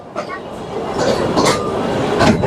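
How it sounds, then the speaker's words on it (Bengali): Steady rumble and rattle of a Dhaka–Narayanganj commuter train in motion, with wheel clatter rising slightly toward the end and no talk over it. "আমাদের ট্রেনটা যাচ্ছে আর কি"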